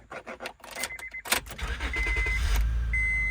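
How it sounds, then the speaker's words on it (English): A Honda car engine starts with its original key: a few clicks and jangles, a short cranking burst, then the engine catches and settles into a steady, close idle with a faint chime. "of course the original key should start the car"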